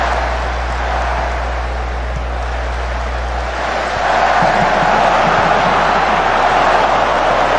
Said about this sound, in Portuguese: torcida gritando olé aí, ó